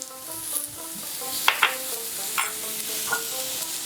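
Pieces of raw green mango, cut with the stone, fry over a medium-low flame with salt, a steady sizzle filling the pan while a spatula stirs and scrapes in a few sharp clicks.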